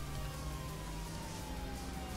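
A police car siren from the GTA V Online video game wails steadily, with a gliding tone sweeping over continuous traffic and engine noise, filling the short stretch without any voices.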